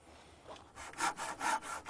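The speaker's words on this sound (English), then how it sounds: "I want to cut the back legs down." A hand saw cutting down the back legs of a rustic wooden chair, giving a quick series of rhythmic rasping strokes, close and clear.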